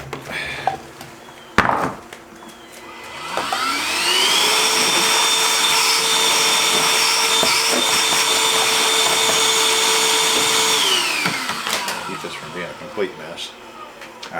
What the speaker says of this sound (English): You want to hand me that vacuum, please?